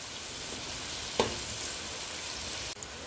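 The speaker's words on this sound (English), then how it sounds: "So now I will let all this fry" Mushrooms frying with onion and black pepper in a pan, a faint even sizzle with one sharp utensil tap partway through, close and quiet.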